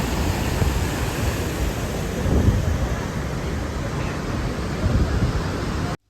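Murchison Falls in Uganda roaring as a steady, dense wall of broadband water noise, close and loud with a couple of low surges, cutting off abruptly at the end.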